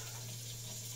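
Tap water pours steadily into a 2-cup measuring cup, a soft, even stream heard close and alone without any voice.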